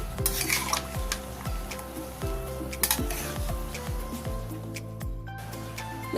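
Chopped taro stolons are stirred in a pan of hot water, with repeated scraping and knocking of a utensil against metal, a bubbling hiss underneath and several sharp clinks, close up and without any talk.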